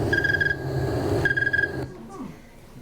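A snowy tree cricket chirping slowly in the cold, with two bursts of pulsed trilling heard close, partly overlapping a person speaking.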